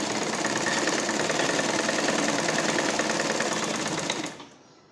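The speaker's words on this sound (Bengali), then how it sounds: "চারিদিক ঘুরিয়ে চাপ সেলাই দিয়ে নিচ্ছি" An electric sewing machine runs a continuous, dense stitching whir while sewing bra fabric, holding steady at close range before abruptly stopping near the end.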